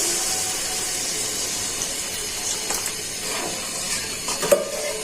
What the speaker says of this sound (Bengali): এখন সাথে দিয়ে দিচ্ছি ঝোল